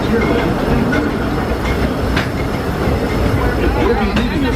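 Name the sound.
Disneyland Railroad train running along the rails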